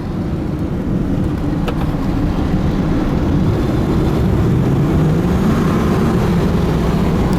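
A 1989 Ford F-350 crew cab 4x4 with a 7.5L 460 V8 cruises in overdrive, its engine and road noise a steady, loud low drone from inside the cab throughout, with no talk.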